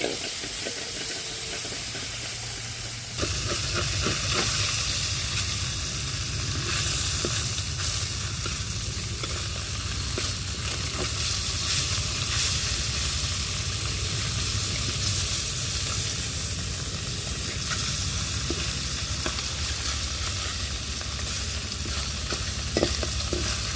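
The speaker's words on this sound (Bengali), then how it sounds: "গ্যাস নেই, কি চুলায় চলেছি রান্না।" Food sizzling and frying in a pan over a stove outdoors in fog with no gas, a loud constant hiss and crackle with occasional stirring scrapes, continuous throughout.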